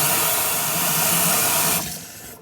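Tap water runs steadily into a sink while eye makeup is rinsed off, a loud close rushing splash that continues without talk and then drops away as the flow is cut.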